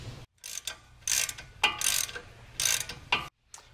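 A ratchet turns a 10 mm bolt on the front brake caliper of a supercharged Range Rover Sport, giving several bursts of quick metallic clicking with short pauses between them. The clicking is close and there is no talk.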